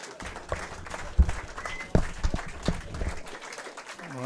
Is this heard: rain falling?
no